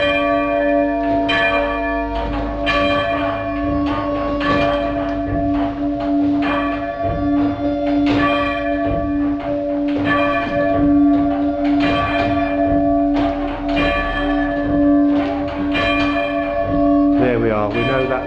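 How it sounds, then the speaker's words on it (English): A church bell at St Margaret's Church, Wetton, rings steadily in a repeating pattern, its muffled backstroke making alternate strokes sound dull and damped, with a sustained ringing hum underneath. "you should be able to hear that the backstroke is muffled."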